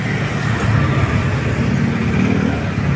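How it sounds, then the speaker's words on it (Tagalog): A Yamaha Aerox scooter's engine and muffler run steadily close by, a continuous low exhaust drone with slight swells in revs, no talking over it. "check natin yung kanyang tunog ha, yung kanyang muffler kung di pa siya nagagalaw"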